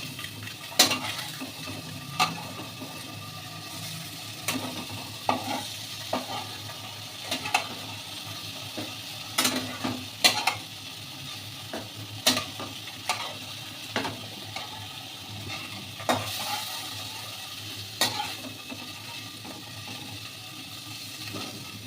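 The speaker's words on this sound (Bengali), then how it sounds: "বেশ সুন্দর করে কিন্তু ডিমগুলো একটু ভাজা ভাজা হয়ে গেল।" Eggs fry in a pan under a low steady sizzle, punctuated every second or two by sharp spatula taps and scrapes against the metal as they are stirred.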